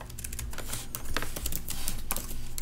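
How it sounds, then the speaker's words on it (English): Steady bursts of computer keyboard typing while entering Python exception-handling code, close and fairly loud, with rapid irregular key clicks over a low background hum and no speech. "I'm going to type some of this right over again."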